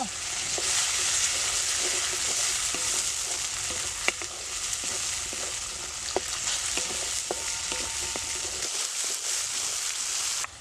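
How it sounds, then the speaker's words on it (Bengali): Hyacinth bean seeds frying in a pan with browned tomato and onion for a rohu fish curry, giving a steady close sizzle with scattered pops and stirring scrapes throughout, no talking. "সিমের দানাটা আমার লাল লাল করে ভাজা হয়ে গেছে"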